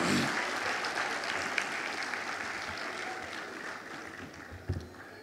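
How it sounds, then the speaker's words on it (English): Audience applause at the Nigeria Computer Society annual conference in Ibadan, a steady wash of many hands clapping from a seated crowd, fairly distant and even, with a couple of sharper claps near the end. "So if you feel like a girl, clap for your girl"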